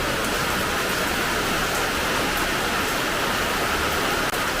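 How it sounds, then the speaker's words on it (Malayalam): Heavy evening rain falls steadily as a dense, continuous hiss that fills the whole stretch without pause, loud and even, with no talking over it. "ഇരുട്ടോട് കൂടിയൊരു മഴ വരുന്നുണ്ട്."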